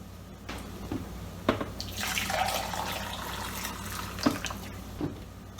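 Already-boiled water poured from a measuring cup into a pot for a plant-based breakfast, a continuous splashing stream with a few clinks of the cup at the start and end, close and moderately loud.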